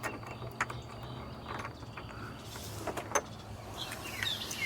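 A loose nut being worked off a part on a 2005 Ford F150 King Ranch truck, with scattered metallic clicks, ratchet-like ticks and light scrapes over a quiet background hum.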